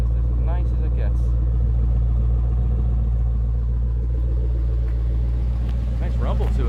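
A 1969 Chevelle SS 396 with its original motor idles in a low, steady rumble under people talking nearby, the engine tone constant throughout.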